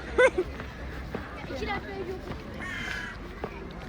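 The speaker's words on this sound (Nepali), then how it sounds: "काग पनि कराइरहेको त हो" Crows caw outdoors near a waterfall with the sea in view, giving a loud harsh call near the start followed by fainter scattered caws, while people talk and chatter in the background.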